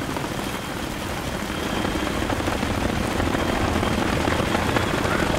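A helicopter flies in the video game Battlefield 3, a continuous dense rotor roar with steady chopping texture, growing slightly louder and holding close and loud throughout, no talk.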